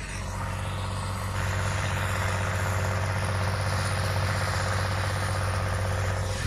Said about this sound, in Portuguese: Olha a ronqueira desse trator.